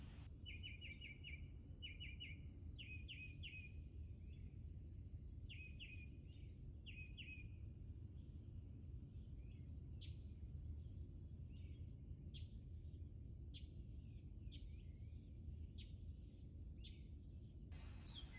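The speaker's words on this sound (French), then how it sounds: "L'aube plus claire, s'élève le chant de la fauvette." A warbler singing at dawn, bright repeated chirping phrases in short bursts, clear and fairly close over a low, steady background hum.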